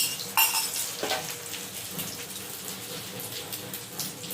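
Beaten egg poured into white oil on a hot tawa, giving a steady close sizzle and frying hiss with a few clinks of utensils and a brief stir near the start; nobody speaks.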